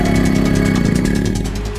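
A motorcycle engine rumbles loud and close in a steady, pulsing throb that eases off slightly toward the end.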